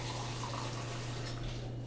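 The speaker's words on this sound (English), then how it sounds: "Now you can start your pan. I usually put a little water in." Water poured from a tap into a pan in a home kitchen, a steady continuous splashing rush with a low hum underneath.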